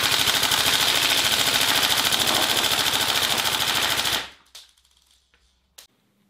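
A Tokyo Marui HK416 Delta airsoft rifle with recoil shock fires a sustained full-auto burst of rapid, even mechanical clatter for about four seconds, then stops, followed by a few faint clicks.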